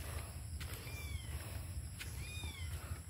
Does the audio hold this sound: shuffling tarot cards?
no